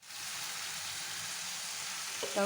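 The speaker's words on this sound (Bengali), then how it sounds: "টমেটো সস দিয়ে ভালো করে নেড়ে নেব" Watermelon rind frying in a pan with tomato sauce gives a dense, even sizzle throughout, close and fairly loud, ending with a brief clatter as it is stirred.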